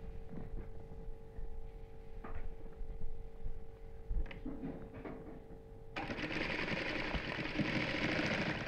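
A sewing machine stitches a cotton housecoat, its motor humming under scattered taps and clicks before the stitching swells into a louder, steady whir for the last few seconds; no one speaks.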